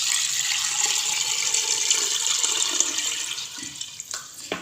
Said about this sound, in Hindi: यहाँ पर तकरीबन 1 लीटर के बराबर मैं पानी डाल दूँगी।